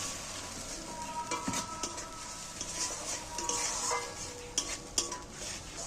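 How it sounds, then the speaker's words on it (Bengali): Onion, tomato, dried and green chili paste sautéed in a pan for an egg dish, with a steady soft sizzle and scattered scrapes and clinks of a spoon stirring against the pan. "এইবার আমি ভালো করে এইটাকে কষিয়ে নেব।"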